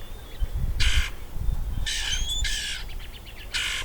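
A bird gives a series of harsh, crow-like squawks in separate bursts, fairly close, over a low background rumble.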